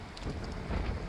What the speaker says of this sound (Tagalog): Lakas ang hangin guys, oh.